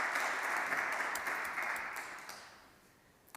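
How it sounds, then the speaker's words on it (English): Audience applause for a panel at an international Europe–Latin America business forum: dense, steady clapping from a crowd that holds strong, then gradually thins and fades toward the end, with a lone final clap. "Please, let's give them a big round of applause."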